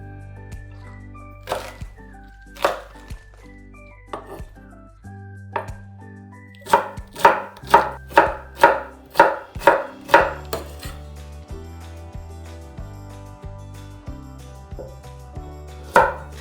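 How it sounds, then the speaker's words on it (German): Chinese cabbage being sliced into thin strips with a knife on a cutting board, a run of crisp rhythmic chops that speeds into a quick even burst, then slower quieter cuts, close and clear without speech. "China-Kohl in ganz dünne Streifen schneiden."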